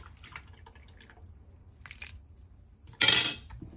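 Beetroot and its cooking liquid are poured into a pot, heard as a short, loud splashing gush near the end after quiet clinks and faint drips.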